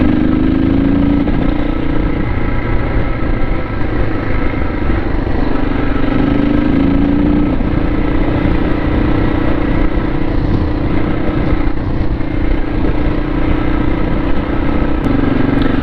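A KTM 640 single-cylinder motorcycle engine runs steadily under way, a loud continuous thrum with gear-change shifts in pitch and wind rush, no talking throughout.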